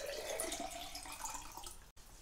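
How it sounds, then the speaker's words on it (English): A pint of water poured into a saucepan for home brewing, a faint steady trickling pour with one brief break near the end, no voices. "I'm going to add a pint of water to the saucepan"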